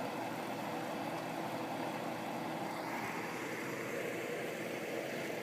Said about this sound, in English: And the compressor kicks on right away.